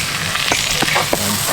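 Whole star anise, cloves and green cardamom pods sizzle and crackle in a hot pan inside a tent, a steady close frying hiss with a few sharper pops, no talking.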